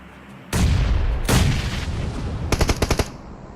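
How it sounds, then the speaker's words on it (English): Grenades burst and guns fire in a PUBG Mobile esports match: two heavy booming blasts come first, then a tight burst of rapid automatic shots, all loud and close. "More grenades being thrown."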